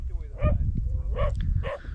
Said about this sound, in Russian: Рогатые боятся их лая и выполняют все пожелания собак.